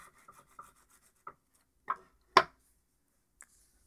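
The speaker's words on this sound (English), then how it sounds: "I'm just going to just basically rub it against my wooden desk." An LG Nexus 4 phone scraped against a wooden desk in a few short, separate scuffs, with one louder scrape in the middle and faint ticks between, close and otherwise quiet.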